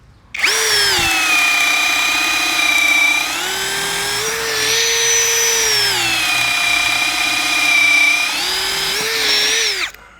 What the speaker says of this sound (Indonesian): nyaman sekali ya untuk pengeboran kayu seperti ini